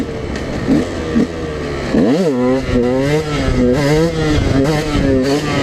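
A supermoto motorcycle engine revs and pulls through the gears while riding, with loud rising and falling pitch sweeps, a sharp rev burst near the middle, then steady close-up throttle surges throughout.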